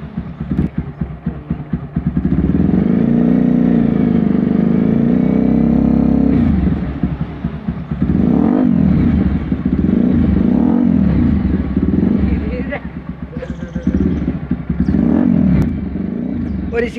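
A TVS Apache RTR 4V motorcycle with an aftermarket Performance SC exhaust revs repeatedly with a loud, throaty exhaust, rising and falling in bursts close by, with a clattering mechanical undertone.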